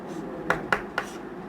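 Three quick pen or marker strokes tap and scratch across a writing surface, close and short, as a number is written out during a maths lesson, with faint background hum.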